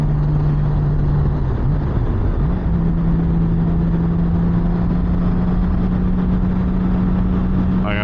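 A new Honda Goldwing motorcycle hums with a steady, loud engine drone under heavy wind rush while cornering at close to 120, the pitch dipping briefly before holding even.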